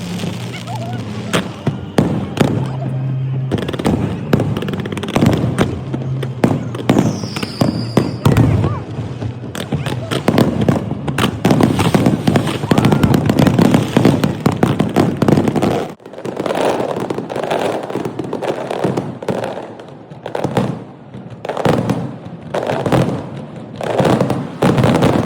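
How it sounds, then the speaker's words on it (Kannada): Fireworks at the Malta International Fireworks Festival crackle and bang continuously, with dense rapid bursts and louder booms, as people talk over the display outdoors. "ನಾನಂತೂ ಈ ಥರ ಪಟಾಕಿ ಹೊಡೆಯೋದನ್ನು ನನ್ನ ಲೈಫಲ್ಲೇ ನೋಡಿರಲಿಲ್ಲ"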